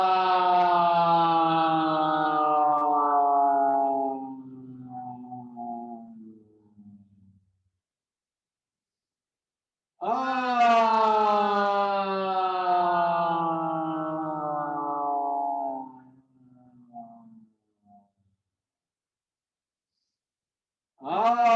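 A group of voices sings a sustained toned "ah" together, two long held chords of about seven and five seconds each, separated by a pause, with rich harmonics and a gentle fade at each end.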